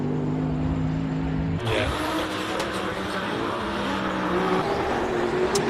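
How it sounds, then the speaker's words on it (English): A BMW race car climbing the Simola Hill Climb course, a steady engine tone that gives way to a sudden louder rush as the car launches and roars uphill, with a commentator talking over it. "Savgatieri coming up in that monster BMW"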